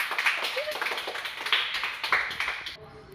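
A child claps along in a Ramayana character game, soft rapid claps blending into lively kids' voices and background chatter before it drops away near the end.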